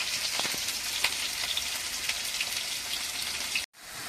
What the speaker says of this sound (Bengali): এপাশে উচ্ছে আলু ভাজা হচ্ছে